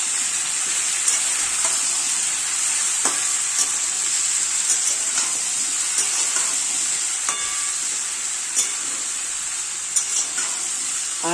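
Coarsely ground ginger and chilli paste fries in hot oil for a Bengali pumpkin and pointed gourd dish, a loud, continuous sizzle broken by occasional light spatula clicks as it is stirred, with no voices.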